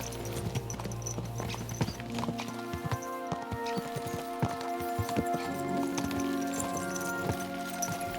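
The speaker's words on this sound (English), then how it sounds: "Let's really spur these horses on, eh?" Horse hooves clip-clopping at a fast gallop in the medieval-world video game Kingdom Come: Deliverance 2, a steady rhythmic pounding over a layer of orchestral music, close and fairly loud throughout with no talk.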